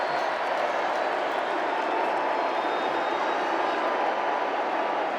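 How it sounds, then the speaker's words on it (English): A rugby crowd at a British Army versus Royal Navy match voices disapproval, a dense, steady roar of many spectators heard at a distance for a few seconds without pause. "the crowd don't like it"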